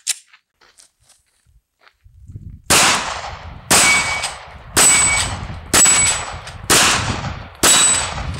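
Six loud, sharp shots from a Glock 43X compact single-stack 9mm pistol ring out about one second apart, each with a short ringing decay, after a couple of seconds of near quiet.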